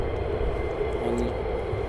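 V-22 Osprey tiltrotor engines idling after start-up at RAF Lakenheath, a steady broadband roar that holds at an even level throughout.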